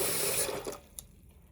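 Rose petals being washed in water, with a short rush of running, splashing water that fades out into near-quiet, ending in a small drip or knock.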